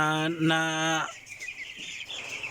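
Broiler chickens about 16 days old cluck close by in a grower house, with a couple of drawn-out tonal calls followed by softer, scattered clucks and rustling.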